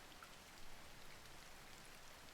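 Steady in-game rain pours down in Coral Island, a soft, even hiss of drops on surfaces that holds constant throughout with no voices over it.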